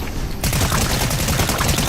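Rapid, steady automatic fire from a precision SMG in Fortnite, loud and continuous with dense close shots aimed at a boss-like queen, no talking.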